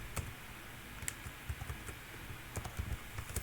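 Light typing on a computer keyboard, a sparse run of soft, close keystroke clicks in an irregular rhythm, fairly quiet against a faint room hiss.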